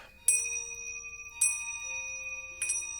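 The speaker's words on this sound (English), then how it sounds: "We all hear bells when they appear." Chiming bell alerts on a gaming livestream, three bright bell strikes spaced about a second apart, each leaving sustained ringing tones over a low background hum.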